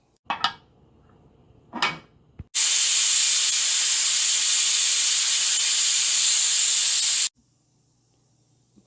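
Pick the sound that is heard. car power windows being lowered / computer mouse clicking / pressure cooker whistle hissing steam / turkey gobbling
pressure cooker whistle hissing steam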